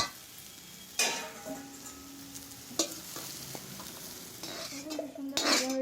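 Raw jackfruit fried in a pan, heard as a faint, quiet sizzle broken by several sharp utensil clinks and scrapes against the metal, spaced irregularly, with no voices.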